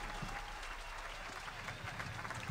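A standing audience applauds in tribute to Cesária Évora at a live event, dense sustained clapping filling the space evenly and fairly faint, with no individual voice standing out.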